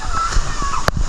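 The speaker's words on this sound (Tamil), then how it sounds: "நம்ம நண்பர் தண்ணியில் போயிருக்காரு" A friend splashes in the water at a waterfall in Bali, with sloshing and churning water under the steady rush of the falls, heard up close and loud.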